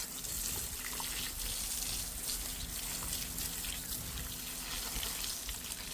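Water splashes and runs steadily while a bull is washed outdoors, a constant faint rushing wash with no voices.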